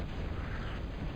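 A game artillery strike lands in Total Annihilation, a Big Bertha long-range cannon emplacement being destroyed on the Core Prime Industrial Area map, heard as a dense, rumbling explosive burst that stays fairly quiet and muffled throughout.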